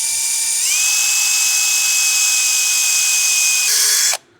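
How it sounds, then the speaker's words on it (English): A power drill with a very dull bit, boring into aluminum, whines at a high steady pitch, rising briefly as it speeds up, then runs evenly for a few seconds before cutting off abruptly. "This drill bit is extremely dull. It won't even cut aluminum."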